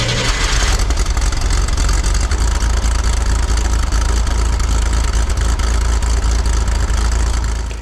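A cold Chevrolet Corvair engine runs rough, a loud, continuous close-up drone with a steady low rumble and uneven, rattling texture throughout.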